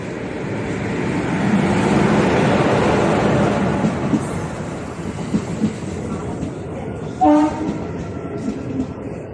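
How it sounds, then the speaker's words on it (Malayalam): A train pulls into Kundara East station on the Kollam–Punalur line. A loud, broad rumble builds and then eases into intermittent clatter, and a brief horn-like tone cuts through near the end. "കണ്ടത് ട്രെയിൻ വരുന്നതൊക്കെ നിങ്ങൾ കാണുന്നില്ലേ."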